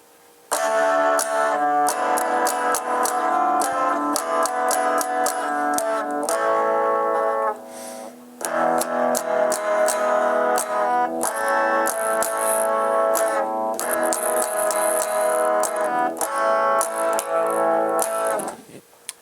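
A Stratocaster plays through a tiny Honeytone practice amp with heavy distortion, producing loud buzzing chords and riffs in sustained phrases with a brief pause in the middle, played alone without talk.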